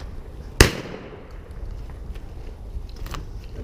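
A single sharp shotgun blast cracks out close by during a brush shoot at the Country Club of Buffalo, then fades over a low, steady outdoor background.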